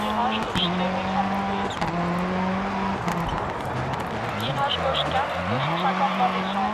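A Ford Fiesta WRC rally car in Dirt Rally drives hard, its engine revving and shifting with tyre squeal and skidding. The engine is steady and prominent, with someone talking over it.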